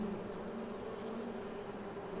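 A swarm of bees in a Farming Simulator 22 farm setting hums in a steady, even drone that holds at a constant level throughout, with no voices over it.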